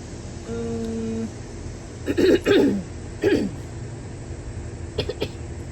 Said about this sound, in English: I'll try and get another cough out